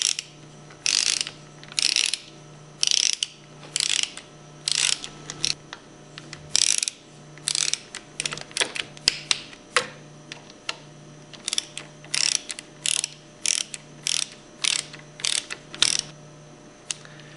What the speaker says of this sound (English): use your 1/4 inch Allen wrench and torque them between 100 and 110 inch-pounds